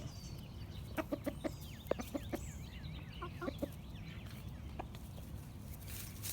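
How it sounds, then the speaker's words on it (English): Hens cluck close by in a dusty yard, a run of short, sharp clucks bunched in the first few seconds and then sparser, over a low background hum with no talk. "Updates on that chicken, this hen right there."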